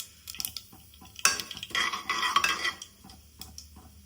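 Spices such as mustard seeds, cumin, peppercorns, cloves, cinnamon and bay leaf go into hot oil for tempering, heard as close metallic scraping and clinks of a spoon stirring in the pan, with a busy burst in the middle.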